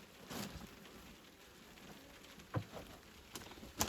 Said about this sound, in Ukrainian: Дощ іде, друзі.